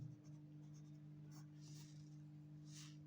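A pen writes out a handwritten maths solution, giving faint, brief scratching strokes in a few short bursts over a quiet, low electrical hum, with no talking.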